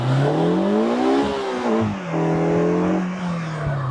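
A Polaris Slingshot R three-wheeled sports car rated at 204 horsepower and 1,650 pounds, driving on the road with a loud steady engine drone that climbs in pitch, dips briefly and settles again while the speed rises.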